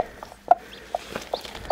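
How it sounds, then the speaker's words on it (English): Faint, high little peeps from a chick still inside its egg come one at a time at irregular intervals, soft and muffled against a quiet background. "There's an egg chirping."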